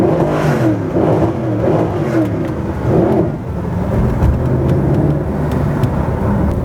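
Mercedes SLS AMG V8 engine revs loudly and close by in repeated rising surges, a deep throaty roar swelling and easing over several seconds.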